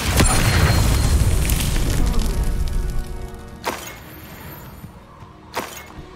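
A deep booming blast from a Confringo spell in the Hogwarts Legacy video game opens loud and rumbling, then decays into crackling debris, followed by two fainter sharp impacts.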